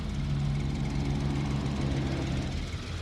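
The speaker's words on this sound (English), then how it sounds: "You can hear the machines." Heavy farm machinery drones steadily across an experimental test field, huge tractors and boom trucks spraying chemicals, a loud continuous engine hum with no voices.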